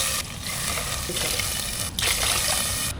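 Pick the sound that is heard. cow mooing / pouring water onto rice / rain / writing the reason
pouring water onto rice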